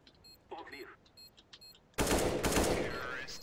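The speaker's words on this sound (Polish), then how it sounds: "I automatycznie wpadł strzał, jak go zobaczyłem." Gunfire in the video game Counter-Strike: Global Offensive: faint game sounds and brief speech at first, then a sudden loud burst of shots and rattling fire that continues to the end.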